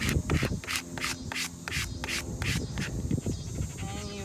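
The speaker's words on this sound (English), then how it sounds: "And you rub it like crazy." A plastic rewards card rubbed hard over a vinyl decal on a car window, giving a steady series of rapid scraping strokes, close and fairly loud, with no talking.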